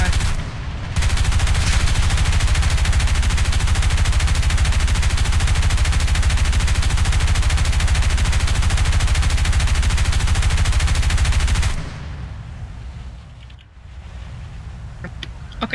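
B-17G ball turret machine guns firing in War Thunder, a loud continuous rattling burst lasting about eleven seconds over aircraft engine drone, then cutting off to the engine hum alone.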